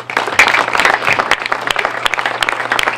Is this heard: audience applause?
yes